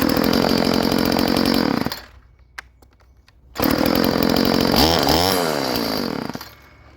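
A vintage Stihl FS 36 weed whacker two-stroke engine runs loud and buzzy, stops briefly, then restarts warm and revs up and down with a wavering whine before settling.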